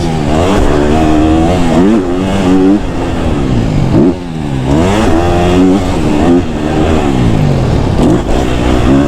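A KTM 250 SXF dirt bike engine revs loud and close, climbing and falling in repeated throttle blips with a brief dip midway, and no talking over it.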